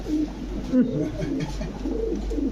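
Soft coos from European toy Lahori pigeons repeat in low, murmuring phrases close by, with faint background noise and some overlapping vocal sounds.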